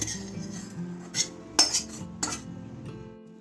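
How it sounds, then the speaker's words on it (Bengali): Thick dhoka lentil filling for a Bengali dhokar dalna tipped onto a large oiled plate, with a few soft clinks and scrapes of a utensil against metal over a quiet, low hum, and no talk. "আমি এবার পুরটা থালাতে ঢেলে নেব।"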